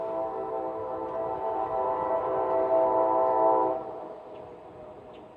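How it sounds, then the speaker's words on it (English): A train horn blares in a long sustained tone over the rumble of a passing eastbound Norfolk Southern loaded coal train, then cuts off as the rolling noise continues. "Eastbound loaded coal train about to cross over top of Highway"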